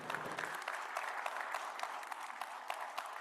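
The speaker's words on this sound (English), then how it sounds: "can we give our Padawan a round of applause for their good?" Applause from a church service congregation for a young Padawan on a Star Wars-themed Sunday, steady broadband clapping heard at moderate distance, filling the room for a few seconds without talk.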